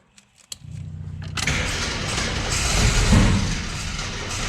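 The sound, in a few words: abandoned Jeep engine sputtering and backfiring while trying to start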